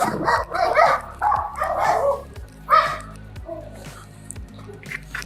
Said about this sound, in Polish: Piesiec sobie szczeka.